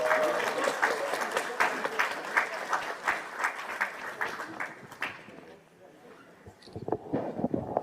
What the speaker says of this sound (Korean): 열렬한 박수로 환영해 주십시오.